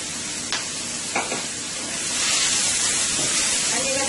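Onions sizzling in a skillet that was just used for chicken quesadilla filling: a steady, close frying hiss that swells louder partway through, with a few soft knocks of stirring.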